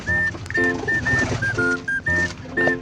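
A pigeon coos close by in short repeated soft calls, alongside faint whistling notes and some rustling.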